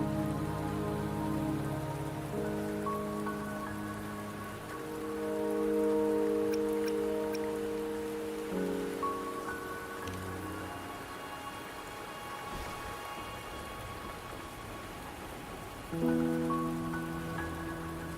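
Steady rain falls in the video game Wuthering Waves, a continuous hiss layered under sustained musical tones, moderately loud and without talk.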